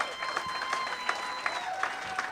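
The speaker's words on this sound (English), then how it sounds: "Everybody stand up. Give a big round of applause for Teddy mama." Audience at a comedy show tribute stands and applauds, a dense, steady wash of clapping with a few cheers rising over it throughout.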